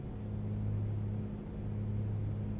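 Steady low drone of an A2A Comanche aircraft engine in a flight simulator, a constant hum with a stable tone throughout, no voices.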